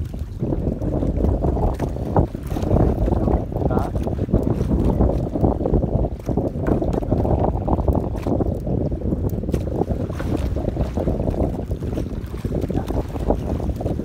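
A small boat pitches on big sea waves in strong wind, giving a loud, continuous low rumble of water and gusting wind buffeting the microphone, with no talk.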